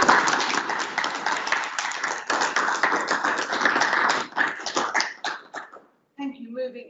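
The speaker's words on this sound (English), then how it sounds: "We have a general round of applause." Round of applause at a city council meeting in Salisbury, brisk clapping from a modest group that thins to a few scattered claps, then a voice speaks at the end.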